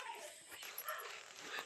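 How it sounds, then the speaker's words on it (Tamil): A village dog barks and whimpers in short, yipping bursts at moderate distance outdoors, with people talking over and around it. "இதுதான் எங்க நாய்."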